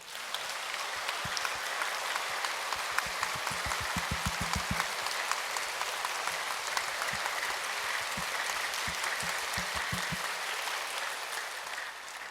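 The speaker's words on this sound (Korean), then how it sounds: "한번 크게 박수 한번 하세요" Congregation applauding during a Sunday church service, a steady, dense wash of many hands clapping that fills the room continuously from start to finish, with scattered louder claps standing out near the microphone.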